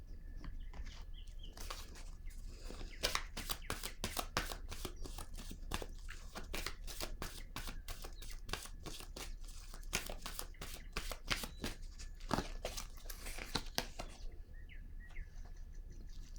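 Tarot cards handled and laid down on a table: a long run of crisp, closely spaced snaps and papery rustles, near and fairly quiet, with brief pauses at the start and end.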